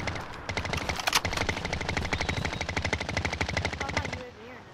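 Sustained rapid automatic gunfire in a video game, a dense unbroken burst of shots running about four seconds, loud and close, then cutting off abruptly.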